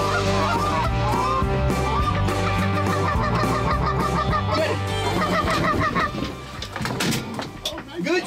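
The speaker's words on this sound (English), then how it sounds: "We got a goose coming from the right that looks real good here." Several geese honk loudly and steadily in an overlapping flock chorus during a pit blind hunt, with some voices talking faintly beneath near the end.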